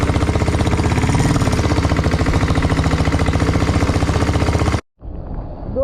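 A diesel Bullet motorcycle engine chugs loudly and close with a fast, rapid thumping beat, then cuts out abruptly near the end, leaving quieter background noise.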